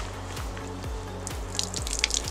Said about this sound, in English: Hot water, fresh from the kettle.